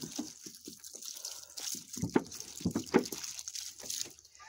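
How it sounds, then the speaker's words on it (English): Water poured onto tomato plants in tubs inside a greenhouse gives irregular splashing and dripping, soft and fairly close, with no talking. "And I do need to water them now."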